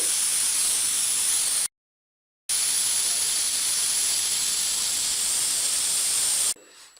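A loud, steady hiss of steam escaping from a pressure cooker, cut off by a short silence, then resuming before stopping abruptly.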